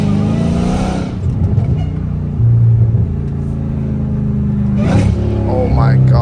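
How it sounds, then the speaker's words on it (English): Dodge Hellcat Redeye V8 downshifting from inside the cabin, a loud sustained engine drone with two sharp blips and revving surges, constant and close throughout. "these downshifts are nasty"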